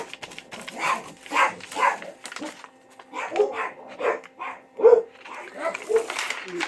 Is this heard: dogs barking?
yes